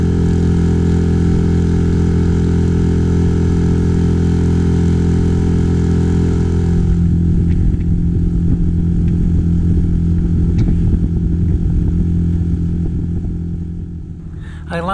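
A loud, steady motor boat engine drones close by on Loch Fyne for the whole stretch, its tone shifting partway through and easing slightly near the end.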